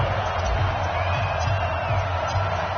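Stadium crowd in an EA Sports NFL video game at a Cardinals vs Giants matchup, a steady, distant roar of cheering with a commentator talking over it.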